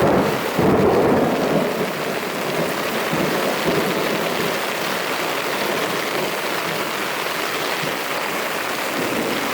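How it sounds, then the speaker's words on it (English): Thunder rolls over a lake during a lightning storm at a kayak campsite in Algonquin, a long deep rumble under steady heavy rain, loud and continuous with no voices. "so thunder's coming."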